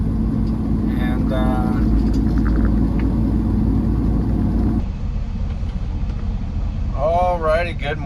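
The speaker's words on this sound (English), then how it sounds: "We are just letting the truck warm up just a little bit" Truck engine idling while warming up in the morning in Granite City, Illinois, a steady deep rumble that drops slightly in level midway, with a voice speaking faintly over it near the end.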